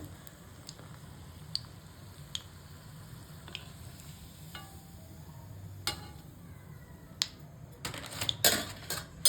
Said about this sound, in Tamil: எண்ணெய் காஞ்சிருச்சுங்க பாருங்கள், நல்லா கொதிக்குது.